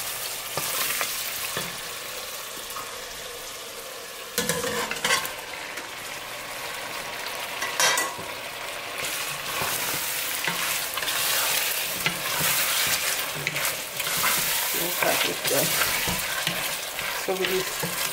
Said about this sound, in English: Now we're gonna add our beef in.